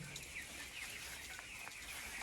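Chickens cluck faintly on a poultry farm housing young chicks, scattered soft calls over a low, steady barn hum.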